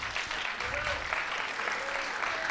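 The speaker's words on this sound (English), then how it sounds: "let's give a big round of applause for Jeff Voorhees." An audience at a golf rules seminar in a high school gives a speaker sustained applause, a steady wash of clapping that carries evenly for several seconds.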